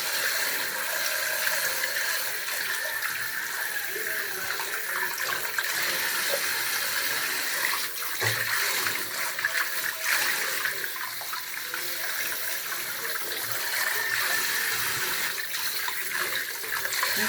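Tap water runs steadily into a kitchen sink while sweet potato leaves are washed. A continuous close rush of water lasts throughout with slight splashing changes and no talk.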